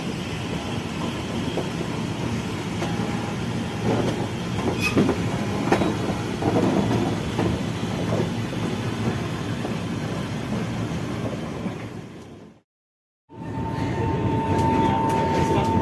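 Riding aboard a KRL electric commuter train on the Tanjung Priok–Jakarta Kota line: steady loud rumble with rhythmic wheel clatter and faint squeal, a brief drop to near silence near the end before the rolling noise resumes.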